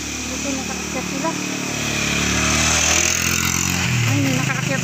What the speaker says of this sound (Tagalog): Ay, may nakaakyat na motor.